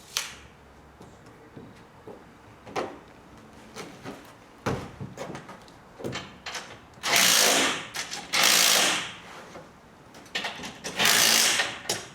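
Mounting hardware on a truck deck is tightened with a power driver and ratchet, bringing short mechanical whirs and clicks followed by several longer loud bursts of driving, close by with no talking.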